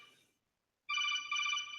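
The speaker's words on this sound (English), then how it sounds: "You have the same ringtone as me." A phone ringtone plays a bright warbling electronic trill in two bursts separated by a short gap, fairly close and with no talking over it.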